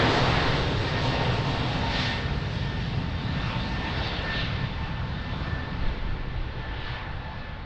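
An airliner takes off at Lisbon Airport, its engines a steady, loud broadband roar that holds evenly throughout with no voices.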